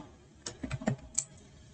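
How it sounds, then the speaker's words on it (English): A handful of light, quick key clicks on a computer keyboard, as a short burst of typing, quiet and close with no talk. "from your keyboard, just simply type in Windows plus R."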